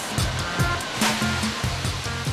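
Industrial wet plant spinning mineral-rich sand with water to sieve out stone: a loud, steady rushing wash with rhythmic churning pulses, close and continuous.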